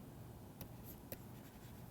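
Chalk or a marker writes on a board during a university lecture, making faint, brief scratchy strokes in a quiet room with no talking.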